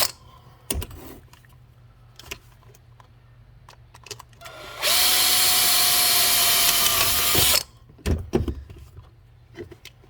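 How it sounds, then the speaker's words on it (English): A power drill bores a rivet hole in a leaf blower nozzle, with one loud, steady whirring burst lasting about three seconds. Scattered handling knocks and clatter come before and after it, and no one speaks. "I'm going to drill it right on here"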